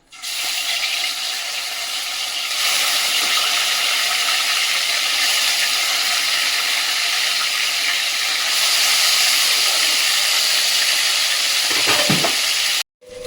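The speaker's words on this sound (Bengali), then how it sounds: "কড়াই তেল দিচ্ছি, মাছগুলো ভাজবো" Katla fish fries in hot oil in a wok: a loud, steady, hissing sizzle that runs without a break and then cuts off abruptly just before the end.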